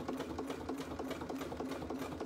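A sewing machine top stitches through cork for a bag, running in a steady fast rhythm at close range with no talking.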